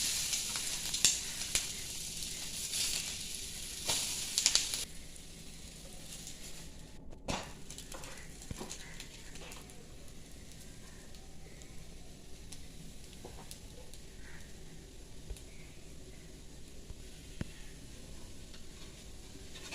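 A bread and egg snack fries in a pan on low heat, sizzling steadily throughout, louder at first and then settling to a softer crackle with scattered scrapes and taps, no voices.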